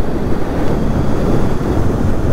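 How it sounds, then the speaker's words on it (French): Strong wind buffets the microphone while riding an electric scooter, a constant, loud low roar, steady throughout with no voices. "Il y a énormément de vent."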